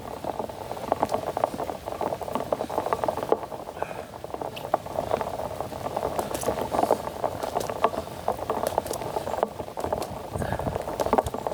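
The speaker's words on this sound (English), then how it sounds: "it's raining kind of hard today" Hard rain pours steadily, a dense, even patter that continues throughout while a voice talks over it.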